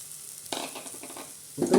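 Spoon stirring sago pudding with sugar in a pan, soft scraping and swishing strokes, quiet and close, growing a little louder at the end.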